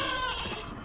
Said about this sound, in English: Goat scream.